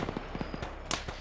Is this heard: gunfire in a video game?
yes